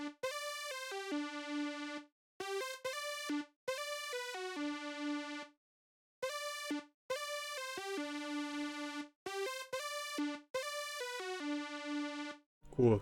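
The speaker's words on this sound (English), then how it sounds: "This lead is from Xenology and it's called the OB double saw" OB double saw synth lead from the Xenology preset library, playing a bright, buzzy melodic phrase in short bursts of notes separated by brief pauses, clean and alone.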